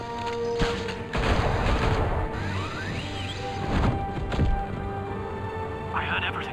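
Gunfire in Batman: The Telltale Series, sharp shots and crashing impacts bursting through a busy game mix, with shouting voices over the action.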